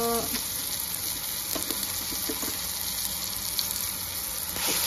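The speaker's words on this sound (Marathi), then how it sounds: "टोमॅटो खोबरं चांगलं भाजून द्यायचं।" Dried coconut and tomato roasting in a pan for a Maharashtrian tomato amti, giving a steady, close, even sizzle with faint stirring scrapes throughout and no talk.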